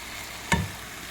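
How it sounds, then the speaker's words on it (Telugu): Boiled mutton tipped into hot masala in a pan for a mild mutton curry, giving one short, close sizzling splash about halfway through, then only quiet room hiss. "ఇప్పుడు ఈ మటన్ వేస్తున్నానండి"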